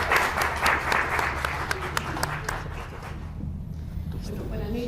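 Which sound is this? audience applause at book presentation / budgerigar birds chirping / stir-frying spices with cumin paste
audience applause at book presentation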